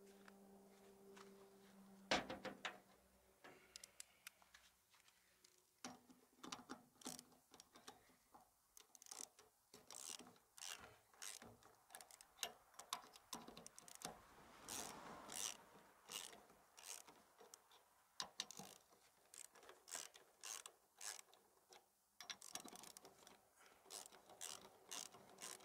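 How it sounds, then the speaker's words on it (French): Ratchet loosening rusty trailer wheel nuts, with bursts of rapid clicking pawl ticks coming close and fairly quiet, pausing between turns, plus a brief mechanical hum near the start. "Je desserre les écrous de la roue."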